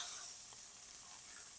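Pork picanha sears on a hot grill, a soft continuous sizzle of fat frying, fairly faint and steady with no voices.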